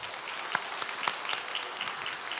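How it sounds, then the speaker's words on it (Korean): A church congregation in Korea applauds warmly for the children of the Sunday service. The dense, steady clapping is punctuated by a few louder individual claps, with no speech over it. "우리 친구들이 인사할 때 뜨거운 박수로 축하해 주시기 바랍니다"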